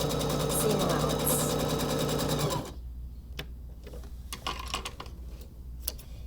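A sewing machine fitted with a 1/4 inch foot runs in a dense mechanical whir for a couple of seconds, then stops, leaving faint clicks and handling noises; a voice is present.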